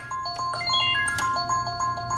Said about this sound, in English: Shut up, timer.